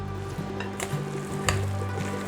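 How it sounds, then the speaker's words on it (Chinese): Pumpkin and potato batter of flour, rose salt, pepper and water being stirred in a bowl, with a few sharp scrapes over a steady low background hum. "把所有食材拌匀，"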